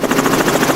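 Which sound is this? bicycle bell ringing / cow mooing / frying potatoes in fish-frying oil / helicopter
helicopter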